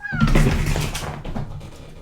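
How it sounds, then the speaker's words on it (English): A cat meows loudly and close by, a short agitated cry that sweeps downward and then fades over about two seconds. "My cat is going crazy right now."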